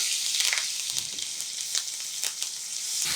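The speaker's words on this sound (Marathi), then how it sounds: "ठेचा मिनिटभर चांगला परतून घ्यायचा" Thecha, a chili-garlic paste, sizzling and frying in hot oil with cumin, hing and curry leaves, a bright crackling hiss with scattered pops and stirring, close up and steady.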